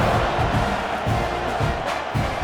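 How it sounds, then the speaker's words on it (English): Stadium crowd roaring in College Football 26 during a Missouri at Texas A&M game, a dense steady wall of cheering and shouting that stays loud throughout. "this crowd is feeling themselves after that last drive"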